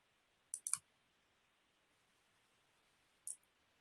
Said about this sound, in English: you click the Generate Report button